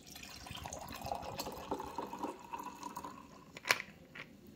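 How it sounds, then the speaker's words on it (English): An apple pie on the rocks cocktail is poured into a glass, giving soft liquid trickles and faint drips, then a sharp clink near the end. The sound is quiet and close, with no one talking. "we're now going to pour the apple pie on the rocks"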